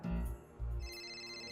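A phone ringtone plays in a Marathi TV serial scene, a short melodic electronic ring with two low pulses followed by a sustained tone, heard alone and fairly quiet.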